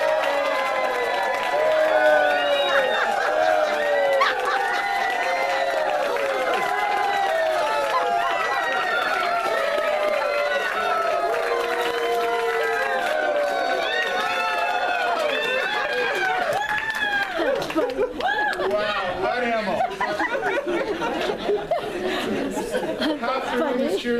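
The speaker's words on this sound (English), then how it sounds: "Half the room is cheering for me, the other room is attacking me" A room of meeting attendees cheers and applauds loudly and steadily, with lively chatter and laughter mixed into the crowd noise throughout.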